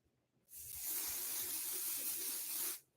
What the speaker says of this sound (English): Let me spray it so I can show you. I'm going to spray it.